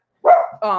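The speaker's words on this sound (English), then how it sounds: "that's my dog. See, my dog agrees." A dog gives two quick, close barks indoors, sharp and clear, one right after the other.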